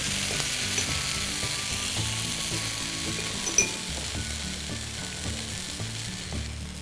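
Oil is drizzled onto a dosa made from split chickpea and moong dal batter as it cooks on a hot pan, giving a steady close sizzle with light scraping and clinking of a utensil.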